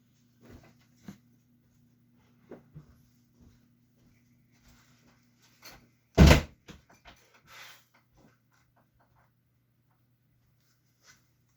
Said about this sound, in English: I want to shut that door to keep those damn dogs out of here